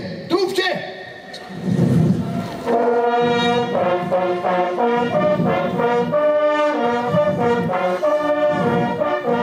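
Trumpeters at a royal ceremony blast a bright brassy fanfare of repeated short notes, loud and close, after a few seconds of opening noise.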